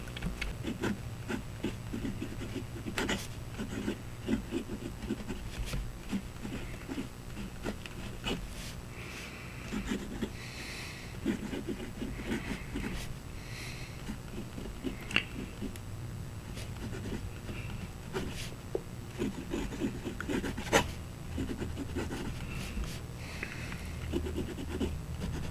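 An extra fine fountain pen nib writing in black glitter ink scratches and scrapes lightly across paper close to the microphone, in uneven strokes and pauses over a low background hum.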